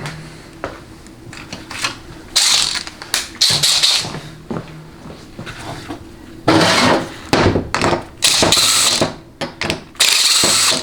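Chrysler A904 automatic transmission on a bench, its parking gear being worked loose, loud close metallic clunks, ratcheting clicks and scraping in uneven bursts, no talk.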